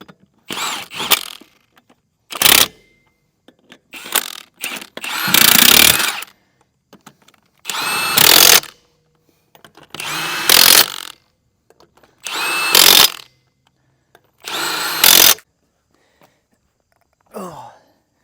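A power tool snugs up bolts on an old heavy-duty equipment trailer, a series of about eight short, loud bursts of spinning and rattling separated by silences, with no talk.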